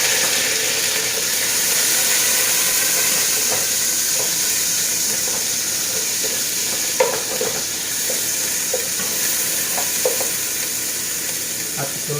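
Ginger sautéing in olive oil for ginataang laing, a steady close sizzle filling the whole stretch, with light stirring clinks and scrapes scattered throughout.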